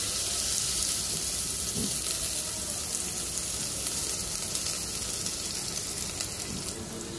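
Onions sizzle in hot oil for a liver bhuna curry, a steady close hissing fry that stays even throughout with no talk.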